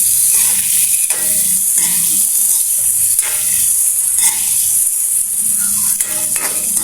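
String beans sizzling and frying in a hot pan while being stirred, with steady loud hiss and repeated scraping strokes of a utensil throughout, no voices.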